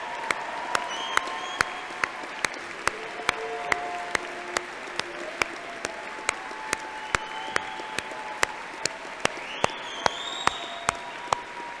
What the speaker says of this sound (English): let me ask our newest graduates to stand and receive our round of applause